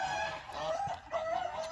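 Farmyard chickens clucking with ducks and geese nearby, a brief run of close, moderately loud fowl calls and clucks over steady outdoor background.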